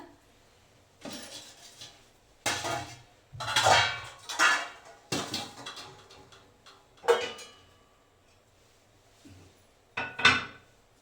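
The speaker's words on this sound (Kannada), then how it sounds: "ಪಾತ್ರೆ ಎಲ್ಲ ವಾಶ್ ಮಾಡಿದ್ದೆ ಈಗ ಇದನ್ನೆಲ್ಲ ಮತ್ತೆ ಅರೇಂಜ್ ಮಾಡ್ತಾ ಇದ್ದೀನಿ" Freshly washed dishes and pots are put away in a kitchen, with separate clattering knocks and clinks of metal and wood arriving at irregular intervals between quiet pauses.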